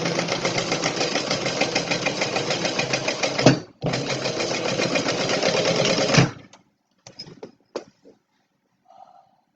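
A sewing machine stitches a weekender bag in two rapid, steady runs broken by a brief pause, then falls quiet apart from a few faint clicks and handling noises.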